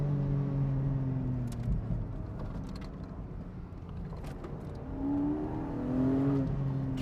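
A Porsche 718 Boxster GTS 4.0 engine under way on a road, revving and rising in pitch, easing off, then climbing again, with tire and wind noise underneath.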